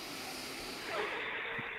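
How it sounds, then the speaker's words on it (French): A slow, airy breath drawn in and let out, soft and close, with a gentle hiss and no talking. "Une respiration."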